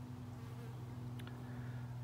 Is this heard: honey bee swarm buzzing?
yes